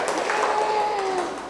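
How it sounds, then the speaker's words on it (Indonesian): An audience in a nursing lecture claps together in a steady, dense patter of hands, filling the short moment at an even, moderate loudness and tapering off slightly at the end. "Tepuk tangan dulu."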